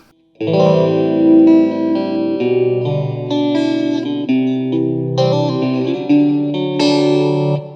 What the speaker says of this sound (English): the quintessential sort of phase 90 kind of sound